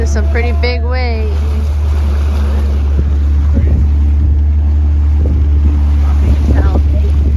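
A boat pounds through big waves in strong wind, with a loud, steady rumble of engine, hull and water and heavy wind buffeting throughout; a voice speaks briefly near the start.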